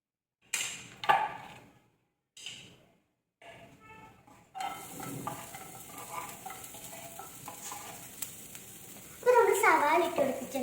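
Sliced onions drop into hot oil for a noodle dish, setting off a steady close sizzle after a few quiet scrapes and taps, with the frying hiss swelling louder near the end.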